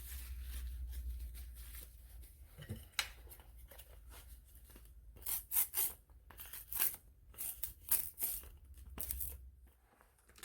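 A lint-free cloth is rubbed over a mug for a sublimation craft project, giving soft, close, uneven rustling and squeaky wiping strokes in irregular bursts, faint overall and with no talking.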